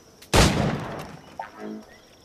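A single loud, close gunshot in the pirate-era game Assassin's Creed 4 Black Flag, followed by a fading tail and a faint click and ring.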